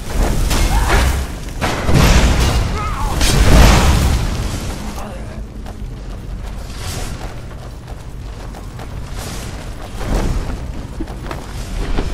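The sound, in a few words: spell being cast and hitting, from video game Skyrim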